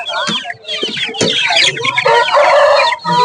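Chickens and roosters cluck and squawk busily at a traditional rooster market in Nambiyur, with a brief crow among dense, close bird calls and faint talk in the background.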